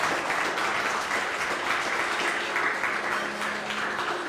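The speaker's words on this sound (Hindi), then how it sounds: "खुदावंद के जिंदा कलाम के लिए मैं चाहता हूँ 2000 ताली दें।" A church congregation claps together at a sermon, a steady, even wash of many hands that goes on throughout, fairly loud and close, with a faint low hum in the background.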